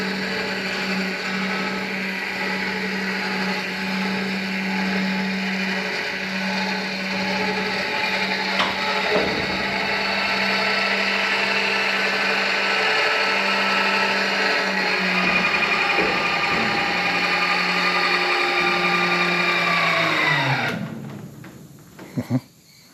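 A motor on a new machine runs with a steady whirring drone, a little wobbly and mechanical, then winds down and stops near the end, followed by a couple of soft clunks.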